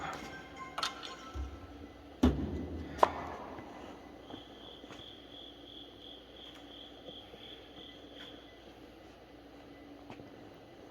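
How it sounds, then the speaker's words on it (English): Crickets chirping at night outside Brushy Mountain State Penitentiary, a thin steady trill running through the quiet, faint and distant, with a few sharp knocks and clicks nearby early on. "That's all we're hearing is crickets."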